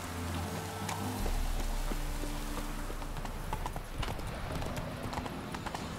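Horse hooves clip-clop steadily in the video game The Witcher 3, a rhythmic run of sharp hoof strikes at moderate distance over a low rumbling ambience with rain-like hiss.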